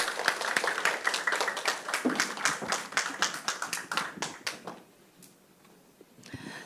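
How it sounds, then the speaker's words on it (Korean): Audience applause for a speaker at a health talk, a burst of clapping that tapers off after about four and a half seconds, leaving near quiet with a faint tap at the end. "네, 다시 한번 감사의 박수 보내드리겠습니다."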